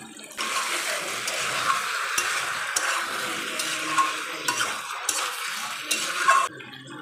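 Chicken for dhaniya chicken being stirred and fried in a pan, a loud, steady hissing sizzle with periodic scraping strokes of a spoon, close up and without talk.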